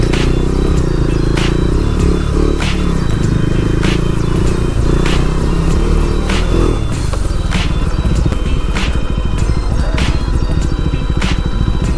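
A KTM Duke 390 motorcycle engine drones loudly and steadily during heavy offroad riding, with regular sharp clattering knocks from the rough ground repeating throughout.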